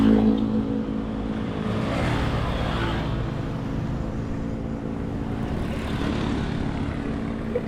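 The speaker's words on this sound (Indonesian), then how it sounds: "Oh, truk-truk gede-gede." Big trucks passing on a road beside a roadside convenience store, a steady heavy engine rumble and whoosh of traffic lasting several seconds, loud and continuous with no speech.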